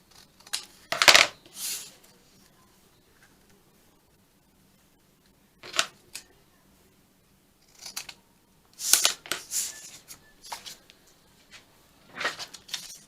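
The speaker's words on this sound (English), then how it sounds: "let's just cut the ends." Scissors snip through the ends of botanical paper sample tags during junk-journal crafting, a few short crisp cuts in separate clusters with quiet gaps between, close up and alone.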